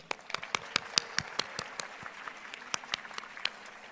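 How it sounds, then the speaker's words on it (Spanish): A moderate crowd at a formal event applauds with distinct, scattered hand claps in an uneven rhythm, fairly faint and somewhat distant in a large hall. "Un aplauso."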